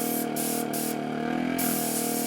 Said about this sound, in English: once I get the hang of which way I need to face my brush and which way I need to face my air compressor